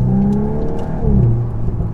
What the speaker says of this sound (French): Petite accélération en sortie de courbe